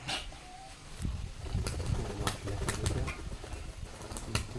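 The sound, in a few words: Rajshahi Giribaz pigeons cooing and flapping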